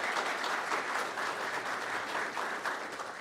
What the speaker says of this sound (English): let's give them a great big round of applause for that